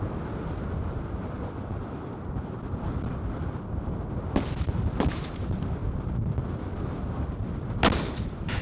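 Precision rifle shots ring out at a long-range target during a precision rifle match, a few sharp distant cracks standing out over constant heavy wind rumble on the microphone.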